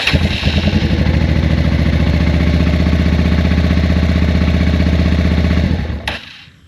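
A classic carbureted motorcycle engine fires up on the first crank and settles into a loud, close, steady idle with a rapid pulsing beat, then cuts off abruptly near the end.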